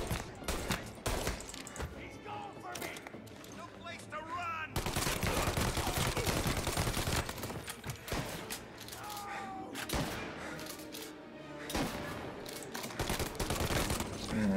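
Dense, sustained gunfire from a hardest-difficulty shootout in Mafia: Definitive Edition, with rapid automatic bursts and overlapping single shots crackling loudly throughout, plus a loud boom midway and faint talk beneath.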